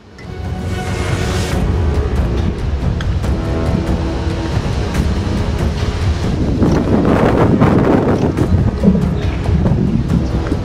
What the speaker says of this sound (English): The wind is really powerful and it's making our vehicle shake.